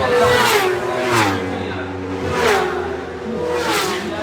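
A Suzuki race car engine revs hard on a circuit, rising and falling in repeated passes and gear changes, loud and close, while a commentator speaks over it.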